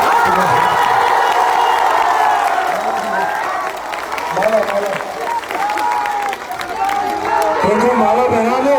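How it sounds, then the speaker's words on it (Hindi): A large crowd at a Lok Janshakti Party political rally claps and cheers loudly, a dense wash of applause and shouting voices that swells and dips, with speech rising above it at times. "तो एक बार इतनी जोर से ताली बजाइए कि मुख्यमंत्री को आज ही पता चल जाए।"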